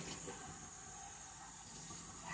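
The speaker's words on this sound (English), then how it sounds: "running cold water run over whatever it is that you're using with a stainless steel" Cold tap water running over a stainless steel knife, a steady hissing stream splashing continuously at moderate, even volume with no voices.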